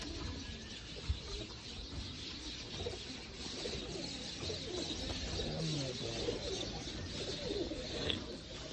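Sialkoti pigeons coo in a low, continuous murmur, several birds calling over one another with soft rolling notes against steady background hiss, with one brief sharper chirp near the end.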